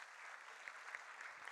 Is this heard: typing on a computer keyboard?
no